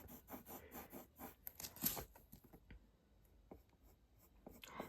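A pencil sketches lips on paper, quick scratchy strokes in a busy rhythm at first, then sparser, softer marks, close and quiet with no talking.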